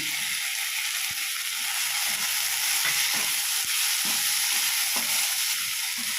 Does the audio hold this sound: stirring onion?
yes